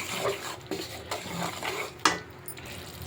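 A spoon stirs a thickening gram flour mixture in a pan while cooking Mysore pak, giving soft scraping strokes and a few sharp metallic clinks against the pan, close and fairly quiet with no talking.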